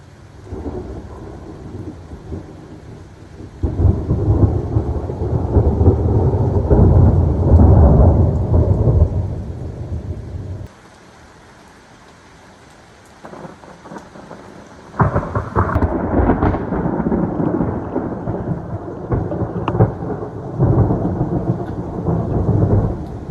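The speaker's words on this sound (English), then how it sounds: "as you guys can see and hear, it is downpouring. Good thunderstorm we're having right now." Thunderstorm with heavy downpouring rain, loud rolling thunder swelling and fading in long bursts over a constant roar of rain, briefly dropping to quieter rainfall before surging again.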